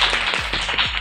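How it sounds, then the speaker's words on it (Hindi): Clapping at a televised Eid ul Azha game show, a few sharp, close claps in a quick uneven rhythm, loud and short over a low background rumble. "जवाब दुरुस्त है, तालियां बजा दें।"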